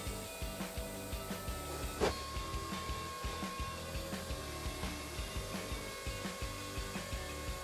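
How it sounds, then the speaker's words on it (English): A CNC router with a 3/16-inch end mill cuts half-inch PVC, giving a continuous machine whine with rhythmic pulsing bursts as the bit moves through the plastic, and one sharper spike partway through. "For the external cut, we'll be using the X-Edge XR2061-CB3/16 inch end mill. We'll be cutting half inch PVC."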